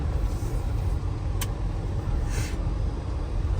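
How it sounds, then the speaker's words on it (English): Chevrolet SquareBody pickup truck hauling a loaded trailer, about 9,000 pounds combined, gives a steady, close engine and road drone with a low rumble that stays constant throughout. "SquareBody hauling a load."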